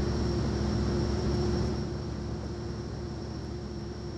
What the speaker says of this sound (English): Thing's a loud plane.